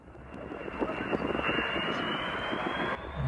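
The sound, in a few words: Avro Vulcan jet bomber aircraft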